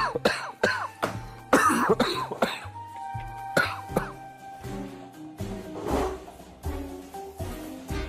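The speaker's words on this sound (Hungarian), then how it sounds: "Egy hangosat köhögél." A loud cough bursts out several times, spaced a couple of seconds apart, over steady background music with no talking.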